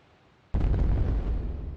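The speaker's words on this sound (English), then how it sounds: "The fireworks are starting soon." Fireworks in the Harvest Moon Back to Nature video game go off in a single sudden boom after a quiet moment, followed by a rumbling, crackling tail that slowly fades.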